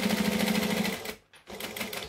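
A domestic sewing machine runs steadily, stitching along the bottom edge of a backpack panel, with a rapid even whir that briefly stops for about a quarter second before starting up again, close and alone.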